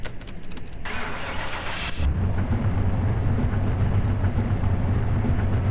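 A car in CMS-21 cranks for about two seconds with a buzzing starter, then catches and settles into a steady, fairly loud mid-pitched engine run, with no voices.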